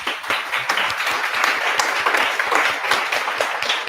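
Applause rises from an audience at the close of a Python meetup panel, with dense, steady clapping from a small crowd heard fairly close.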